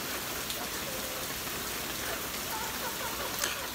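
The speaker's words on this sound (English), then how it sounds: "So I like the sound effects of the rain" Steady rain falling and pattering on surfaces, a dense, even hiss of drops at moderate volume that continues without a break, with no voices.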